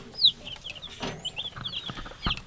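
Day-old Americana and Bantam baby chicks peeping in a brooder, a few high, sharp chirps scattered over soft shuffling and small knocks, close and fairly quiet.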